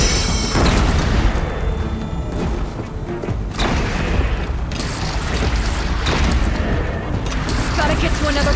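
Cannon fire from platforms in Horizon Zero Dawn Remastered during the finale battle: heavy, repeated booming blasts with mechanical clatter, loud and close, under occasional voices in a chaotic fight.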